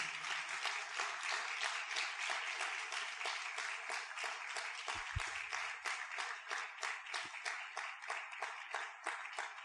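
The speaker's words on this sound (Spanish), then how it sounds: "Fuerte aplauso al Señor por eso" Congregation in an evangelical church service applauds, a steady wash of clapping that pulses gently in volume, with a brief low thud partway through.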